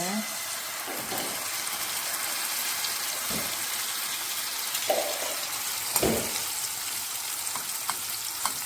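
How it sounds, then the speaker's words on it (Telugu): Oil heats in a pan for an omelette, a faint continuous sizzle with occasional clinks and thumps, while voices talk intermittently in the background. "స్టవ్ ఆన్ చేశాను. కొంచెం ఆయిల్ వేసేస్తే"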